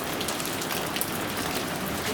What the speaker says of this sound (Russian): И начался сильный дождь.